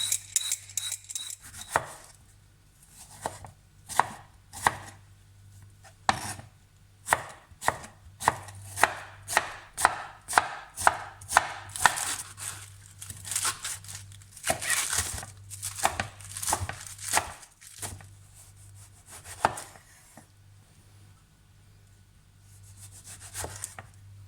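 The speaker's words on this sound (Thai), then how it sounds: "มะเขือเทศนี่ต้องหั่นเบาๆนะคะ" A knife cuts tomatoes on a cutting board while an Italian vegan panmolle is prepared: a steady run of crisp, close chops with brief pauses, over a low constant hum, with no one talking.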